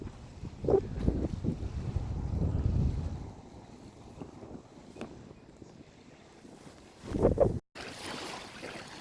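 Wind buffeting a microphone beside a lake in Yosemite National Park, low rumbling gusts that swell and fade, loud at the start and again near the end, with a brief dropout.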